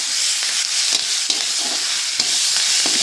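Drumstick leaves fry in a sizzling tempering for a buttermilk stew, a loud, steady crackle close by, broken by a few sharp stirring clicks, with no voices.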